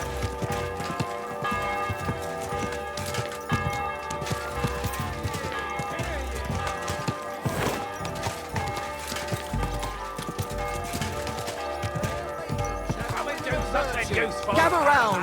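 Horse hooves clip-clop steadily in Kingdom Come: Deliverance 2, a close rhythmic beat of hoofsteps over a music-laden game soundscape, with an occasional snort.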